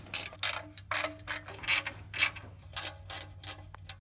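Ratchet tightening the four pan shield bolts back onto a Toyota FZJ80 80-Series Land Cruiser, heard as close, rapid bursts of clicking pawl strokes in a steady repeating rhythm with short pauses between pulls.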